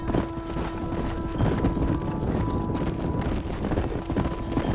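Horses clip-clopping on a ranch at Beecher's Hope in the Great Plains, 1911, in the Red Dead Redemption video game: steady, fairly loud hoofbeats with a constant low hum underneath and no talk.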